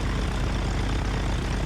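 Small propeller airplane engine in flight, a loud, steady droning rumble heard close from inside the cabin.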